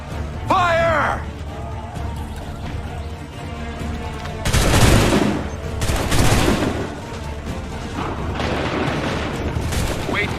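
Musket volleys crack out in an Assassin's Creed III battle, a couple of heavy massed bursts of gunfire with booming echoes amid battlefield ambience and shouted orders.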